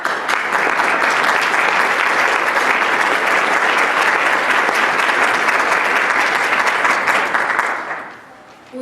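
A luncheon audience applauds steadily and loudly for about eight seconds, a dense even roar of clapping from many hands that fades out at the end.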